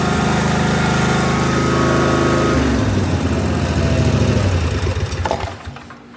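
A Snapper lawn mower engine roars at high revs, loud and steady, then the pitch shifts and the noise winds down as the engine slows near the end.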